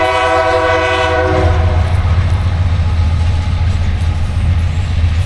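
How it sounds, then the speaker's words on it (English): A freight train rumbles past loudly and close in Leighton, Alabama, its horn sounding at the start before giving way to a steady heavy roll of wheels on track. "So a freight train is passing through."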